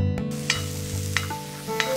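Hot oil sizzling steadily in a pan as curry leaves are added, with a few sharp crackles and spatters popping at intervals.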